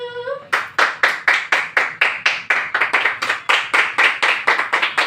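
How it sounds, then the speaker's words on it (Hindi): A small audience claps in steady, rhythmic unison at a Father's Day family celebration with dance performances, about ten sharp beats per two seconds after a brief sung note, loud and close with no talk over it. "तालियां।"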